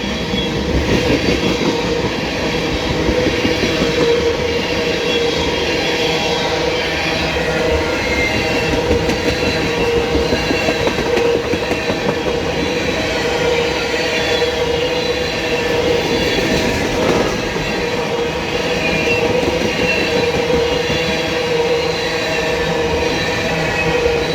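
A long CSX ethanol freight train rolls past on the old B&O mainline in a steady, loud rumble of wheels and cars, with faint squealing and clacking throughout and no talk.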